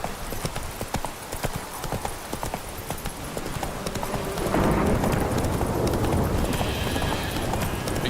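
Roach the horse gallops in The Witcher III, a steady clip-clop of hooves that builds into denser, louder running hoofbeats with faint game ambience behind.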